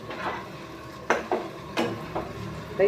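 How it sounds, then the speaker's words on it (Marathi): A spoon stirs sprouted moth beans (matki) with masala in a pot, giving a few distinct scraping strokes spaced apart over a soft sizzle, close by and without talk. "हे बघा मसाला आणि मटकी मिक्स केले"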